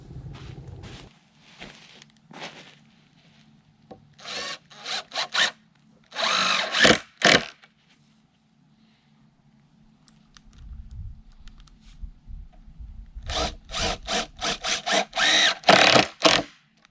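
Power drill driving screws into 2x12 lumber for a garden bed, several short bursts of whirring spin separated by quiet pauses, close and fairly loud.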